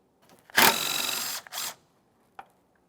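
A ratchet backs out a 10mm bolt on the brake master cylinder of a 2008-2017 Mitsubishi Lancer, heard as a close, loud buzzing burst, a shorter second burst and a faint click afterward.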